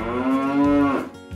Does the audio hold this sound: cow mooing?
yes